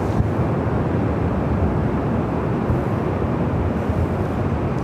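A nine-year-old Delta Airbus A350-900 takes off at Los Angeles International Airport, a steady broad engine roar heard from a distance, with wind buffeting the microphone.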